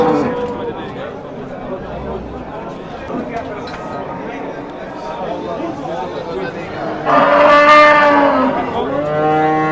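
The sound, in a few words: cows mooing at cattle market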